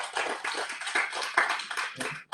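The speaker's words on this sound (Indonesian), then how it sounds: "Berikan tepuk tangan untuk" A church congregation claps in applause during a worship service, brisk close clapping with uneven bursts and a sudden stop near the end.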